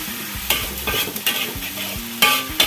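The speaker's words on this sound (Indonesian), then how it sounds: "Kita aduk-aduk supaya tidak gosong kawan-kawan" Spice paste frying in a pan for catfish asam pedas is stirred with a utensil, producing close scraping strokes and clanks over a constant sizzle.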